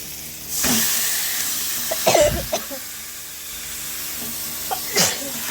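Chicken pieces dropped into a hot pan for a home-style chicken curry give a sudden loud burst of hissing sizzle. It settles into a steady, fainter frying hiss, broken by a few sharp knocks of a utensil.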